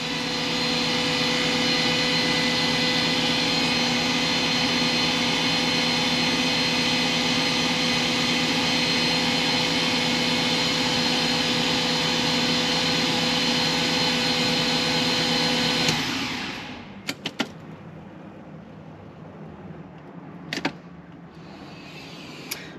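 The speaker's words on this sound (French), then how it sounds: "le moteur il doit tourner quand même bien vite sans les bougies." A BMW E46 328i inline-six turbo engine with its spark plugs removed spins on the starter motor in a long, steady, loud whirring drone that stops abruptly after about sixteen seconds, leaving a few faint clicks.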